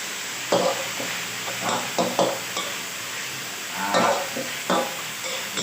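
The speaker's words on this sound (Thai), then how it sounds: "แล้วก็ผัดเลยครับนี้" Kale with crispy pork being stir-fried in a wok, a soft steady sizzle broken by repeated scraping strokes of the spatula at an uneven rhythm, close by.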